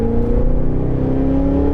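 The 2023 Cadillac Escalade V luxury SUV's supercharged engine and exhaust hold a loud, steady, rising drone at close range, with no one talking.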